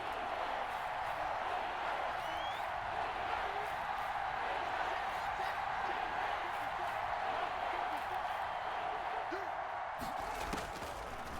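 Stadium crowd noise from a Madden football video game swells ahead of a big third-down play, a steady dense roar lasting throughout at moderate level with no distinct peaks.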